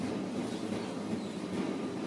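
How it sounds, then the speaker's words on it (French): An early 20th-century tramway on line 75 rolls along rails with a steady low rumble and faint rhythmic clatter, close and continuous, and no voices. "Et donc, notre tramway."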